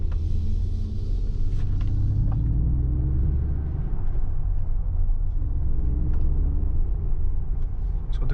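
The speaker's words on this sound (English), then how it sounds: "the car is simulating sort of combustion sound" A low, steady synthetic engine drone hums from a 2025 Mercedes G-Class AMG electric car, simulating a combustion motor, rising and falling slightly like idle and gentle acceleration at night.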